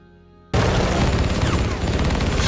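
Enemy gunfire erupts in a Korean War film scene, a sudden loud burst after a quiet moment that becomes a sustained, dense barrage of shots.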